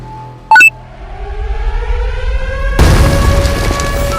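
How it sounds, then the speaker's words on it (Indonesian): In an animated drama, a time bomb effect gives a short sharp beep, then a rising whine that swells into a loud, sustained explosive boom. "Itu adalah suara bom waktu."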